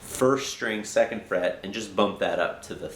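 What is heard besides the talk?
No everyday noise stands out behind the speech.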